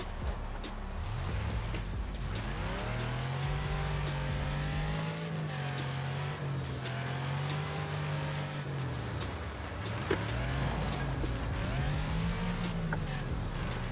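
Engine of a car in a steering-wheel driving game, a low droning tone that rises and falls as the car speeds up and shifts, steady and close throughout with faint background effects.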